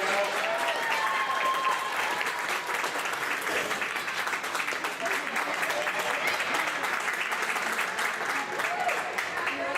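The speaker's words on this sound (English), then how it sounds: "Let's give all our tournament team a round of applause." A crowd applauds the tournament team at a youth 10A hockey championship ceremony between Chaska Chanhassen and Centennial-Spring Lake Park, with even, sustained clapping filling the room for about ten seconds and faint voices mixed in.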